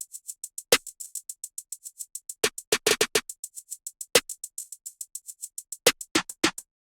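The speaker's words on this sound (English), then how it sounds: "So the hi-hat and the snare together sound like this." Programmed trap beat with a rapid, steady hi-hat ticking throughout and punchy snare hits landing at irregular points, including a quick cluster of rolls, dry and upfront with no voices.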